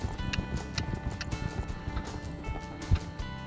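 Hooves of a ridden horse being pushed forward at a reining horse boot camp, steady clip-clop footfalls close by over a busy arena background, with one heavier thud near the end.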